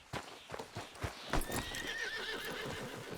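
A horse in Red Dead Redemption 2 whinnies with a rising, drawn-out neigh over steady clip-clopping hooves and the faint bustle of the game world, close and fairly loud, with no talk.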